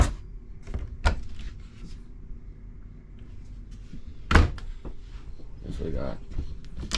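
Drawers in a Primetime Tracer 24DBS travel trailer slide and bump shut a few times, with sharp knocks standing out under quiet talking in a room.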